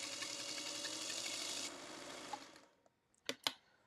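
A sewing machine stitches pumpkin quilt blocks in a fast steady whir for under two seconds, then slows and stops, followed by a couple of sharp clicks. The sound is faint and close.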